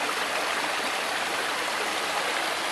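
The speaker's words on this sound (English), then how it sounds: "There's the dam. Just flowing over." Water pours over a beaver dam near Trinidad, Colorado, making a steady, dense rushing wash that stays constant and close for the full length, with no voices.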